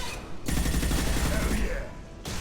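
Sustained burst of rapid gunfire in the video game Mass Effect 2 as shots are fired at a fuel tank, loud and continuous for about two seconds, then cutting off abruptly.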